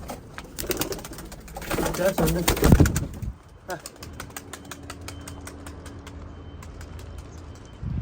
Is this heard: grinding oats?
no